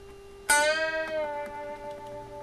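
A single guitar note is plucked, then bent upward and released back down, ringing clearly and close with a slowly fading sustain and no voices.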